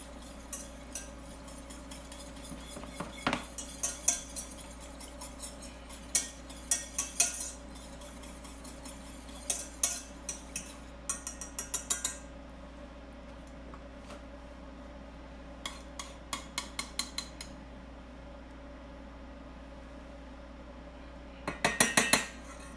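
Jus de lie being mixed with salt and pepper, heard as a series of close metallic clinks and scrapes of a utensil against a pan or bowl, coming in short clusters over a steady low background hum, with no talking.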